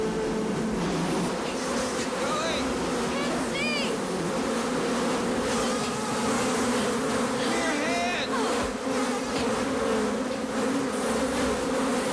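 A dense swarm of bees drones continuously and loudly throughout, the buzzing steady and close with individual insects whining past now and then.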